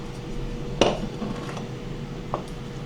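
Clinking of a utensil against a bowl, one sharp knock followed by softer scraping and another light tap, close by.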